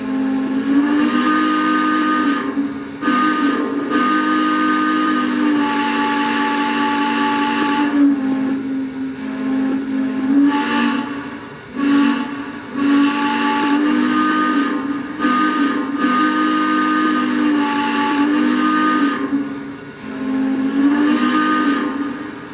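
A Lionel Legacy Santa Fe 4-8-4 Northern model train's steam whistle sounds in long, steady blasts with brief breaks, a bright harmonic tone over a constant hiss, close and loud.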